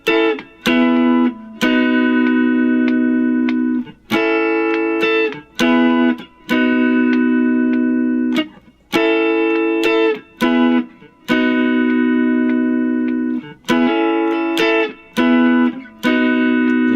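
Electric guitar strums sustained backing chords for the solo, with repeated chord changes and short gaps between phrases, loud and steady throughout.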